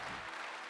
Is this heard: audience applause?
yes